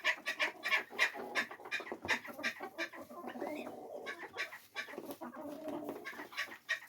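Several backyard Silkie chickens cluck and murmur continuously at close range in winter, with overlapping soft calls and a few louder squawks.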